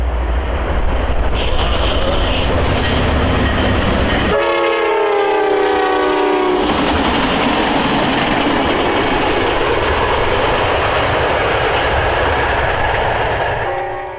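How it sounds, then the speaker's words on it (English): Amtrak Piedmont Service Train 73 rushes southbound through Jamestown, North Carolina, a loud, close roar of passing rail cars with one long sustained horn blast midway, followed by continuing wheel rumble. "we recorded Amtrak Piedmont Service Train 73 heading southbound at milepost 294 in Jamestown, North Carolina"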